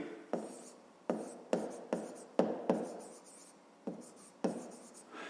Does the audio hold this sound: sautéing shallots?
no